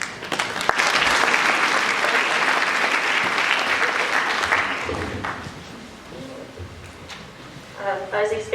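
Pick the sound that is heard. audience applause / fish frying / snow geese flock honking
audience applause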